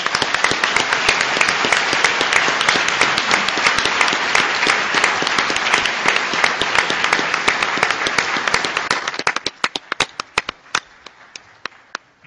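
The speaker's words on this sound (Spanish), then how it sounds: "Por eso solicito un fuerte aplauso al gobernador Sabines." An audience at a government education session applauds the governor of Chiapas with loud sustained clapping that thins out near the end into a few scattered claps.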